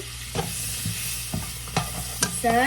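Carrots sautéing for beef chop suey, a steady close sizzle broken by several sharp spatula scrapes and knocks against the pan.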